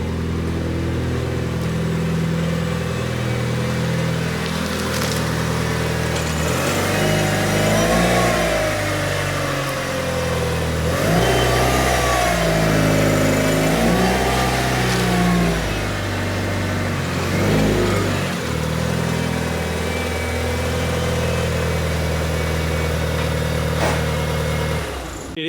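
A Mitsubishi Lancer Evolution IX MR engine runs loud and close in a garage, climbing through several strong revs over a steady idle, with no talking.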